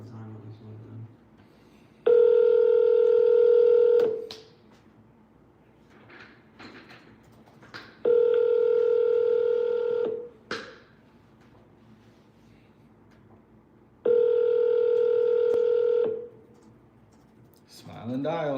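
Telephone line tones while calling a for-sale-by-owner listing: three long, steady electronic tones of about two seconds each, separated by quieter pauses with small clicks and rustles.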